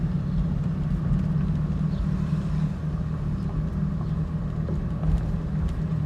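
Buick engine with a blown connecting rod idling, a low steady rumble heard close and fairly quiet, continuous for the whole stretch with no voices.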